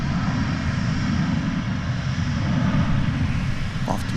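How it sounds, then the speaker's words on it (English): An Aeromexico Connect Embraer 190 jet takes off from DFW for Mexico City, its engines a loud, steady low roar that continues without a break, no voices. "Here goes that Aero Mexico Embraer"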